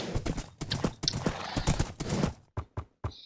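Horse hooves clopping in the video game Minecraft: a dense run of close hoof clatter gives way to three or four separate, crisp clops near the end, with no talking.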